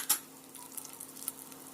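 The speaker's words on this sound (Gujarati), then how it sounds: "એને થોડુંક એને પણ ઘીમાં સાંતળી લઉં" Spices being sautéed in ghee in a pan for a khichdi tempering, a faint, soft sizzle with a brief crackle and light ticks at the start, heard alone.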